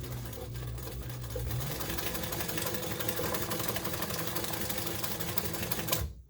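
A sewing machine stitches a back band, running steadily and close with a fast mechanical rattle that picks up speed early on and holds for several seconds before stopping abruptly.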